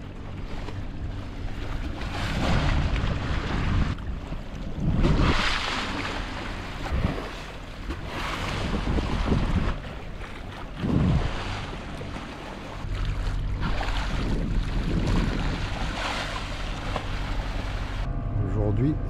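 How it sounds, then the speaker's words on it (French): Village pirogues pass on the calm Casamance river in Senegal, with repeated swells of water wash and wind buffeting the microphone amid steady boat noise, some voices faintly present. "Seul me dépasse quelques pirogues villageoises."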